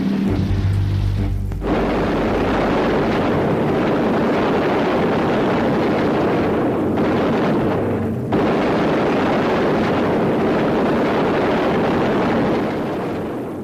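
Heavy anti-aircraft artillery fire against B-17 bombers, a dense continuous roar of blasts and rumbling detonations, loud and close, with a sharp break near the start and brief dips later.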